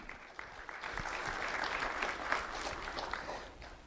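At a sheriff's office recognition ceremony, the audience claps for an elementary school student, a soft, distant, even patter of applause with no talking over it.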